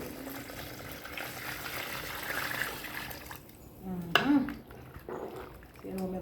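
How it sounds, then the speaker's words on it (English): Water poured into a cooking pot while making Jamaican-style red peas soup, a soft splashing and trickling that rises near the end, with a person talking over the kitchen background. "I'm going to add my water to the pot right about now."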